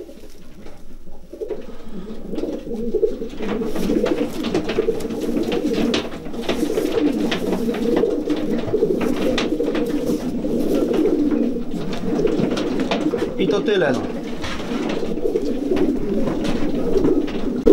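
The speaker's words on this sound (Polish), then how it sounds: "Też gołąbki kapitalne." Racing pigeons coo steadily in a loft, a dense, continuous murmur of overlapping calls close by, with a brief spoken word near the end.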